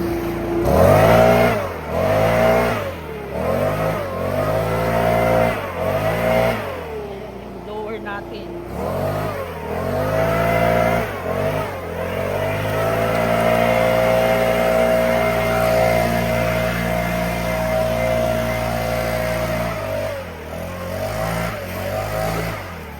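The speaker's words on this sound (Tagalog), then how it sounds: "Mag-blower tayo dito." A petrol leaf blower revs up in repeated bursts, then settles into a loud, steady drone close by, used to clear pine cones outdoors.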